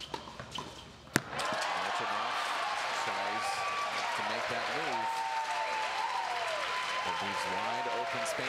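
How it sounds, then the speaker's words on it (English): A crowd at a men's doubles tennis match breaks into loud, sustained applause after a point, with the clapping holding steady over several seconds. A commentator's voice talks over the ovation. "you can hear this crowd firmly behind Hach and Patino now"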